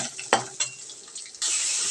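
Vegetables tipped into a hot frying pan over ginger, then stirred: a few sharp clatters and scrapes of a spatula, followed by a sudden rush of loud sizzling near the end, with no voices.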